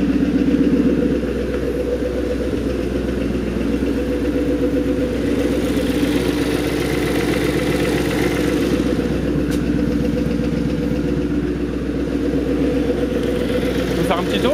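A Maserati 3200 GT idles steadily up close, its engine holding a constant low hum with a faint ticking from the valves running throughout.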